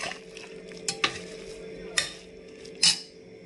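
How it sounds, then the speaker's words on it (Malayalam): A spoon stirring milk into semiya payasam inside a pressure cooker, a few scattered metallic scrapes and clinks against the pot over a soft background hum, with no talking. "ഞാൻ ഇളക്കി കൊടുക്കുക."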